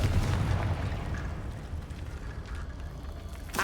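A Confringo fire spell bursts in the Hogwarts Legacy video game as a dense, roaring blast that fades into a rumbling tail, with faint sharp crackles near the end.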